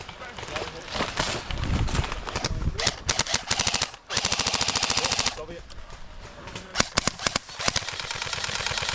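Airsoft guns fire in an outdoor skirmish game, rapid clattering bursts of quick repeated shots that stop and start again, fairly close, with people talking over the shooting.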